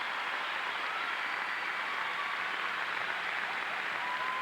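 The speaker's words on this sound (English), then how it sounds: "Few people out there booing" At a 1990 US Olympic Festival men's gymnastics event, an arena crowd boos in a steady, dense, distant roar that holds level throughout with no break.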